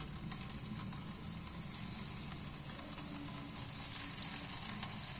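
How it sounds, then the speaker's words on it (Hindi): Koftas frying in hot oil in a kadai, a steady, soft bubbling sizzle with faint crackles and a small clink near the end. "अब ये कोफ्ते जो है इसमें डाल देंगे और इनको फ्राई कर लेना।"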